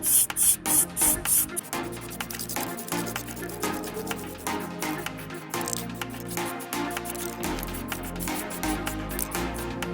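Spray can applying a third, heavy coat of primer to brake calipers, heard as repeated short hissing bursts, some rapid and clipped at the start, then longer steady sprays, close and loud with no talk.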